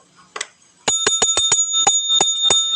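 A small bell is struck repeatedly, about nine bright sharp rings in a quick, slightly uneven rhythm, loud and close with ringing overtones between strikes.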